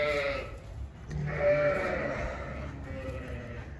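Sheep bleating on a farm pen while getting ready for lambing, several wavering calls overlapping at close range, one loud cry standing out midway, with restless animal noise throughout.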